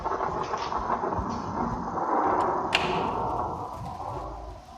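Thunder rumbles low and long during a rainstorm, a deep rolling swell with a sharp crack near the middle over a steady wash of rain.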